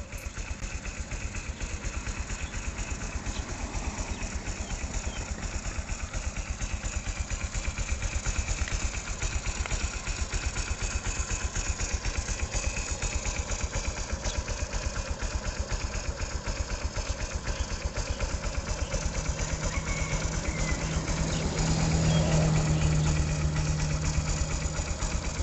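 A Honda Future 125 motorcycle engine, freshly overhauled with a rebored block and 0.50 oversize piston, idles close by with a steady, even, smooth running note that holds for the whole stretch.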